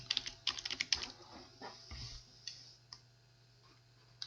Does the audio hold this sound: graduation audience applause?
no